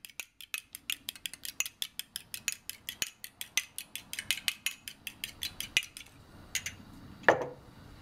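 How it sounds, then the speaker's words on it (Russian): Eggs are whisked in a bowl for a quick lazy pizza, a fast, even run of light metallic clinks about four per second, close and steady, slowing to a few scrapes at the end. "взбьем яйца"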